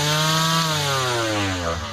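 A battery-operated grass cutter runs close up with a loud, steady motor whine whose pitch drifts slowly downward, with no other sounds.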